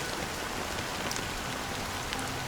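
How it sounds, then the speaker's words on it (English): Steady, dense rain pours down without pause in the video game Honkai: Star Rail, a constant hiss of drops with no voices. "But it's still raining."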